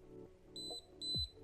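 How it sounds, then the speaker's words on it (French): Two short, high electronic beeps from an Acetech Raider airsoft tracer unit as it switches into its second mode, each beep about a quarter second long with a brief gap between, sounding clear and fairly faint against a quiet background. "j'ai eu les deux bips, donc ça veut dire que je suis passé au deuxième mode"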